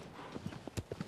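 Horse hooves clip-clopping in Shadow of the Colossus, a few soft irregular thuds with a short sharper step near the end, faint and close under a light game ambience.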